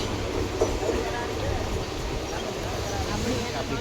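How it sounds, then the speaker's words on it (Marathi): Local commuter train on the Diva–Vasai line pulling away after a long halt, a low steady rumble with faint wheel clatter, heard from inside the carriage, people talking quietly. "आता गाडी निघाली 20 मिनटांनी"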